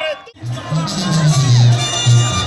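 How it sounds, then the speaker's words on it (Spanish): A large crowd roars with cheering and clapping, a dense continuous wash of voices that swells and holds loud throughout. "El aplauso del respetable"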